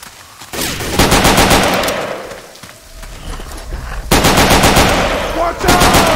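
Rapid automatic gunfire from Left 4 Dead 2 rattles loudly in dense bursts across a haunted forest level, with a brief lull midway before the firing resumes just as hard.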